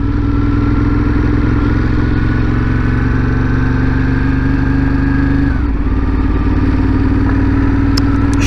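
A motorcycle engine drones steadily at close range while being ridden, holding an even tone before a brief dip in pitch partway through, with no voices heard.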